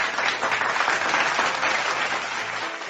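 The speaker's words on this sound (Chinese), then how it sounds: "掌声鼓励鼓励。" Steady applause from a seated audience at a talk, dense clapping filling the moment without a break and tapering slightly toward the end.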